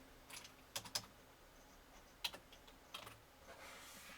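Keys tapped on a computer keyboard while entering a command on an Olimex LPC2478 development board setup, in short irregular bursts of clicks with pauses between, fairly quiet and close, no talking.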